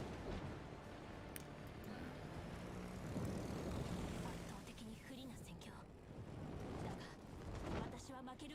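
Bomber plane engines drone in a naval warship video game, a steady, fairly loud propeller roar that swells and fades, with someone talking over it.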